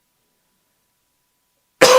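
A preacher coughs once, sharp and close, during a sermon, breaking a stretch of silence right at the very end.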